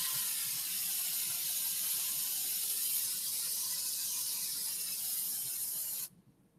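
A steady hiss of spray from an aerosol fog can runs for about six seconds at close range, then cuts off abruptly into near silence.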